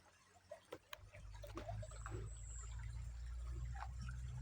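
River water flows quietly and steadily, with a few soft knocks and splashes early on before settling into a continuous low trickling rush.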